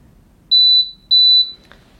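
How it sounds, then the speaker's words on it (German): A Thermal Cinch device's timer gives two clear, high, steady beeps, each about half a second long, close and alone over a quiet room hum. "Er piepst, wunderbar"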